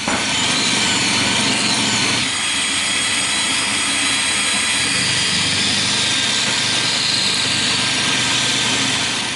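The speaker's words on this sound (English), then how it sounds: "put it back in the lathe and file the PVC plastic down" PVC plastic pipe is filed down while spinning in a lathe during work on a Crosman 2240 cocking hammer, a loud, continuous rasping whir that runs unbroken and dominates throughout.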